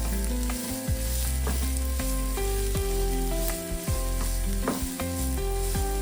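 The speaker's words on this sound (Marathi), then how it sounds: "आता मी यात टाकणार आहे कांदा पुन्हा चांगलं परतवून घ्या" Onion sautéing in a pan for a clam sukka makes a steady sizzle close by, with repeated metal clinks and scrapes from stirring and no voices.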